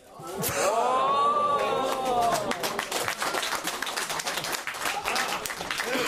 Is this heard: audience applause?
yes